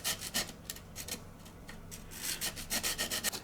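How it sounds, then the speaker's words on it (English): Quick, scratchy back-and-forth rubbing of a small homemade sandpaper sanding stick on a model biplane wing, in short rhythmic bursts, close and fairly quiet. "I made these little sanding sticks here"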